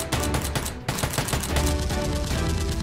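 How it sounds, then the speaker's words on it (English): Rapid bursts of fire from Nerf guns in a staged shootout rattle loud and close, clustered in quick repeated volleys with a short pause partway through. "The female assassin rushes out and returns fire."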